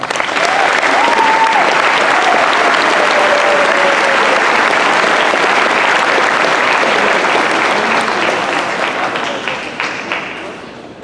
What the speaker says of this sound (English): Please give a big applause to our speaker